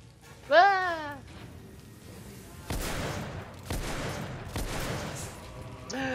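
Revolver gunshots from the third-person shooter The Order: 1886, a few sharp loud blasts spaced across the moment with a voice talking and exclaiming over them.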